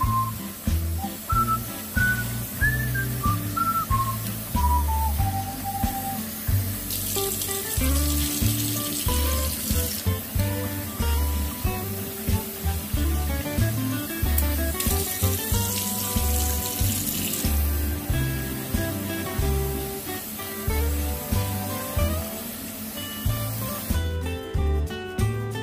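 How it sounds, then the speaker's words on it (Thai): Sticky rice being washed under cold running tap water: steady splashing flow into a bowl or sink, loud and close, with no talk. "เราจะล้างข้าวเหนียวด้วยน้ำเย็นนะคะล้างให้สะอาดเลยนะคะ"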